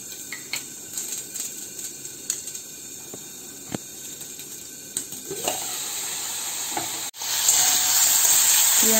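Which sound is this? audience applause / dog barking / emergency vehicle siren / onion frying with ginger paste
onion frying with ginger paste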